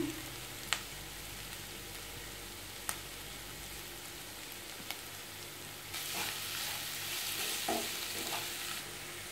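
Vegetables with salt being stirred in a pan for vegetable biryani, a continuous low sizzle with occasional sharp spoon taps, the frying growing louder and busier near the end.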